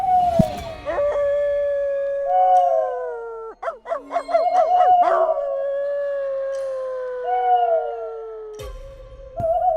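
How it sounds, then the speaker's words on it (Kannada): Dogs howl at night in a long drawn-out chorus, several wavering howls rising and falling, with a cluster of quick yips in the middle, clear and fairly close against a silent background. "ಅದ್ರ ಜೊತೆ ನಾಯಿಗಳು ಉಳಿಡೋ ಸದ್ದು"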